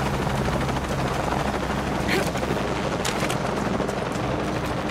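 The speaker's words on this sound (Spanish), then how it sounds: "Ay, mierda, el helicóptero otra vez." Helicopter from the Shadow of the Tomb Raider video game, a steady loud rotor drone held for the full five seconds, with bursts of gunfire cutting in near the middle and toward the end.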